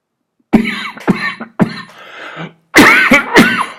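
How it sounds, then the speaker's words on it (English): A series of harsh, close coughs in two bursts separated by a short pause, loud and with no speech around them. "I would have edited that cough, the two coughs out"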